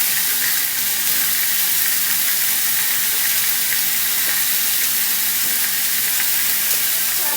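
Coho salmon fillets frying in a pan over high heat, giving a loud, close, unbroken sizzle and hiss with occasional faint spits, and no voices.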